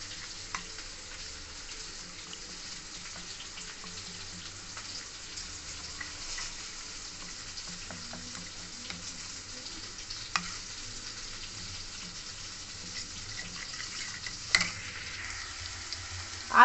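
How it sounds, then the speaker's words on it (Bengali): Potatoes fry in a pan with a faint, steady sizzle throughout, plus occasional soft clinks and stirring scrapes near the end. "আলু এখানে ভালো মতন ভাজা হয়ে গেছে"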